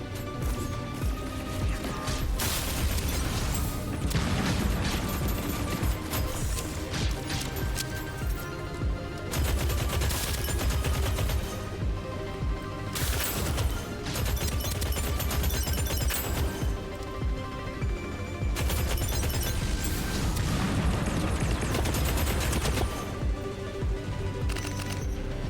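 Assault rifle gunfire and grenade blasts in the video game Deadzone Rogue, sustained bursts of rapid automatic shots mixed with heavy explosive thuds and crashes, loud and dense throughout with short lulls between volleys.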